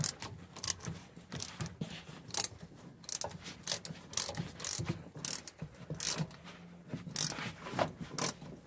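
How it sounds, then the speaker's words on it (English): A ratchet wrench clicks steadily while bolts are turned on a small-block Chevy 350 engine with ported, polished heads. The rapid ratcheting runs nearly continuously in close, crisp bursts, with no voices. "Might have to do this with the ratchet"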